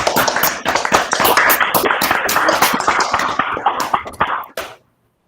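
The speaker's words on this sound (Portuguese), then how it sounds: "Vamos aplaudir novamente" Applause from an academic audience at an algebra session, dense claps rising quickly and sustained for about four and a half seconds before cutting off abruptly into silence.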